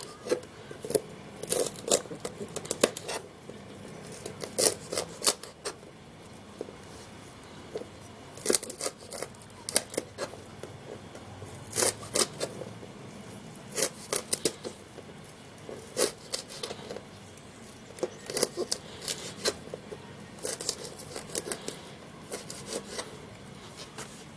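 Celery leaves being chopped with a knife on a board, a run of crisp, uneven cutting bursts repeating in short clusters with brief pauses between, close and fairly clear with no talk.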